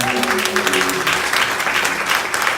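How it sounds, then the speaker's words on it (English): Applause from a church congregation fills the room, a steady wash of many hands clapping at close range with faint voices and tones beneath it. "Let's give a round of applause for that."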